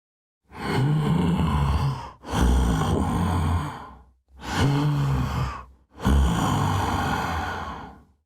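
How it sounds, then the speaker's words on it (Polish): An Overwatch 2 hero breathes heavily in the video game: four long, loud sighing breaths, close and drawn out, separated by short pauses, with no speech. "Możesz oddychać trochę ciszej?"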